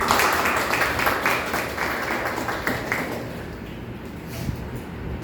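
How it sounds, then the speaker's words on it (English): A Toastmasters club audience applauds a member, with dense clapping that starts loud and slowly fades over about five seconds and has no talk over it. "Can we extend our applause to Toastmaster John"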